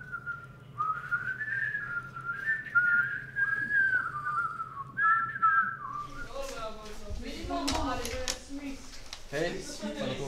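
A person whistles a wavering tune alone for several seconds, then the whistling gives way to busy clattering and voices nearby.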